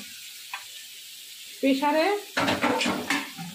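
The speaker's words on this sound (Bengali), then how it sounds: "এখানে আলু ভাজা হচ্ছে" Potatoes fry in a pan for breakfast, a faint sizzle that jumps to loud, crackling bursts as they are stirred, with talking mixed in.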